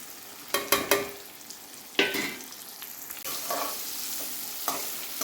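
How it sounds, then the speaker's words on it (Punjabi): Okra (bhindi) dropped into hot oil in a kadai, several sharp spattering bursts at first that settle into a continuous crackling sizzle, close by with no talking. "ਤੇਲ ਹੋ ਗਿਆ ਆਪਣਾ ਗਰਮ ਤੇ ਹੁਣ ਆਪਾਂ ਵਿੱਚ ਪਾਵਾਂਗੇ ਭਿੰਡੀਆਂ"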